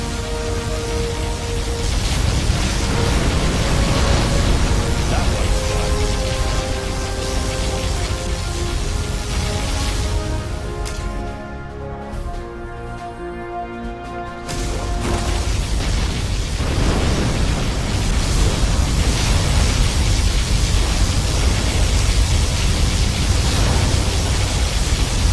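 A particle cannon fires in the Command & Conquer Generals Zero Hour USA Laser faction: a loud, sustained roaring blast with a tonal hum that drops away briefly midway, then surges back in full.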